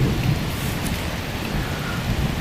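Heavy rain from a line of thunderstorms pours steadily and close by, with low thunder rumbling beneath the constant downpour and no talking.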